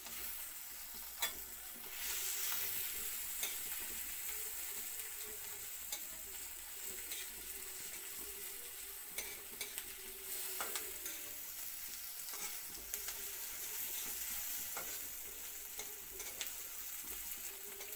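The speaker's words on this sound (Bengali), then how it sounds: "শীতল মাছটা পেঁয়াজের সঙ্গে একসঙ্গে ভালো করে ভাজা করতে লাগবো" Fish and chopped onion frying together in an oiled wok, a continuous moderate sizzle broken by repeated utensil scrapes and taps from stirring, no talking.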